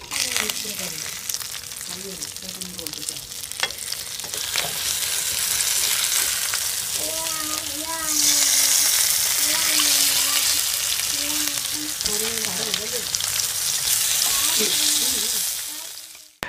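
Snakehead fish fry in hot oil in a pan with a loud, constant sizzle and crackle that grows stronger midway, along with occasional scraping and clinking of a utensil and bursts of speech.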